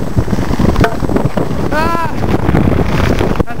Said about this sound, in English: All I can hear is my jacket snapping in the wind.